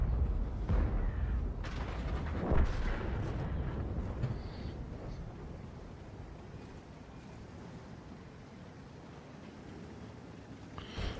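Cannon shots from a Caernarvon AX tank in a tank battle video game tournament: a few heavy booms in the first seconds, then a low rumbling ambience that slowly fades.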